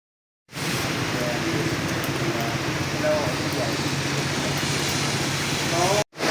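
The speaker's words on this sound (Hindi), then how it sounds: "सुबह होते ही इतनी तेज़ बारिश हो रही है" Heavy morning rain in Islamabad hisses steadily and densely for several seconds after a brief silent start, a continuous wash of noise with no voices.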